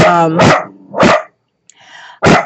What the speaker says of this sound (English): The dogs are warning me